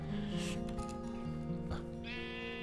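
Sheep bleat in Minecraft, a wavering, nasal cry that comes twice over a dense bed of in-game background sound, fairly clear against the steady mix.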